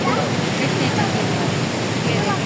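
Loud, steady roar of rushing water at the Taunsa Barrage, a broad continuous wash that fills the whole stretch without letup.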